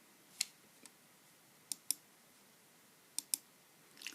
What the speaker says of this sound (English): all I've got to do is click this one